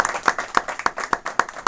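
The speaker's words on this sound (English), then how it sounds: "Let's give a big round of applause to Jon." A quick round of clapping from a small audience welcoming a guest speaker at a live event, with steady, evenly spaced, fairly close hand claps.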